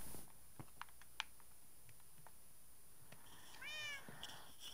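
A single cat meow from the video game Minecraft rises clearly near the end, preceded by faint scattered keyboard clicks over a quiet background hiss.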